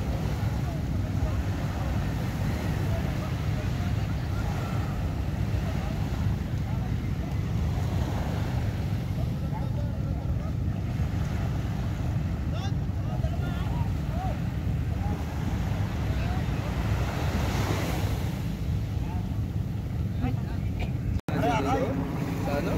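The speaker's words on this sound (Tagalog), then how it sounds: "Umuwi na mga bangka yan, oh." Small fishing boats heading home across open sea, their engines a steady low drone mixed with wind buffeting the microphone and the wash of waves, with people talking over the noise.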